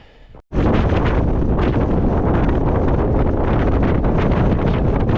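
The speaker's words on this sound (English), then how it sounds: "Proper blowing a hoolie." Strong wind roars across the microphone on a Scottish hill climb up Croft Head during an ultra race, a sudden loud continuous buffeting that fills the clip after a brief quiet start.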